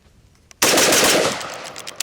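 A paintball gun fitted with a Shocker trigger on an AR-style platform rapid-fires through a magazine in one loud, continuous burst of about a second and a half that stops abruptly.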